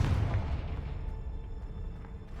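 A Confringo fire spell blast in the video game Hogwarts Legacy, a deep booming burst at the start that trails off into faint rumbling game ambience.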